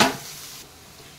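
Masala spices being stirred into hot oil in a pan for chana masala, a quiet sizzle with a brief scraping stir at the start that fades to a soft steady fry.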